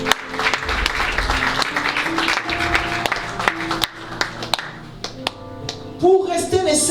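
A church congregation claps rapidly and unevenly, a dense patter of hand claps spread through the hall, loud and steady for several seconds, with a voice breaking in near the end.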